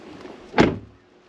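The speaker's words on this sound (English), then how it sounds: "Close the door." A car door thuds shut once on a 2018 Jeep Grand Cherokee WK2 set up for overland travel, a single solid close-range slam after a faint rustle, then quiet.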